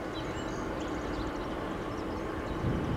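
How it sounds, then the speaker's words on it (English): A freight train rolls past at speed near Hyndman, Pennsylvania, a steady, dense rumble of wheels and cars that holds constant throughout. "Luckily that train's going fast."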